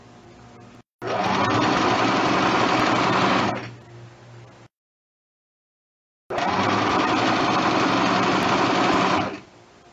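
Two loud, close bursts of a sewing machine stitching a straight skirt hem, each lasting a few seconds and separated by a short silence.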